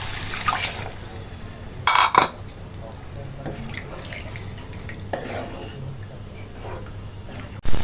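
Water is poured into liver curry cooking in a pot, giving a broad hissing splash, with clinks of utensils and a couple of sharp metallic knocks against cookware.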